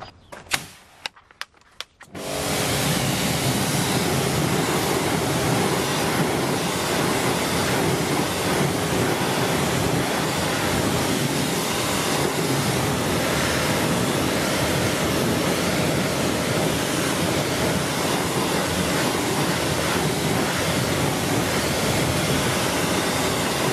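A pressurized water spray rinses a car wheel rim after a wheel cleaner is applied, a steady, loud broadband hiss that runs without a break after a few short clicks at the start.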